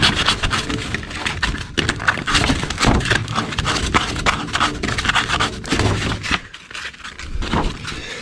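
Hand sanding across cracked car paint being prepared for primer, a close, steady rasping scrape with irregular strokes throughout and no talking.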